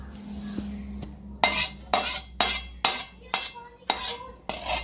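Roasted masala spices and coriander seeds being scooped from a pan, a spoon scraping metal in about seven regular strokes, close and crisp with no talking.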